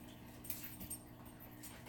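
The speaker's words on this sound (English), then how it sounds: "Calmly getting the dogs to stop fighting." Dogs scuffling and whimpering close by, with brief yips and strained whines over a steady low household hum, the sounds uneven and fairly faint throughout.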